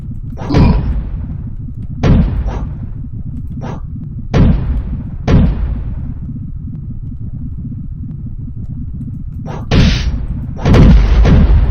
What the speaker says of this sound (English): Using up all my grenades.